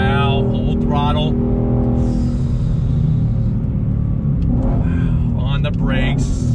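A 2020 Ford Shelby GT500 engine roars at full throttle, loud and sustained, with a voice speaking over it at the start and end.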